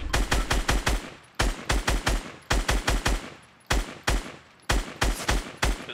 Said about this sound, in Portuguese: dei muito tiro nesses caras que estão construindo ali